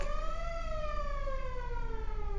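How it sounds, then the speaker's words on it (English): A siren from a passing lowrider car wails in a slow falling sweep, distant and fairly faint over low background rumble, with no talk. "that was like some crazy siren from some lowrider or something"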